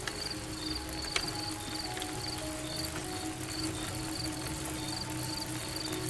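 Steady rain falls at night, a soft continuous hiss on a dark, deserted road, faint and even throughout, with a thin high insect-like trill running through it and no voices.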